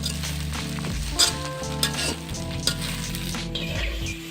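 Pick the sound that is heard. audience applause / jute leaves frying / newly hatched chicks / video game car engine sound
jute leaves frying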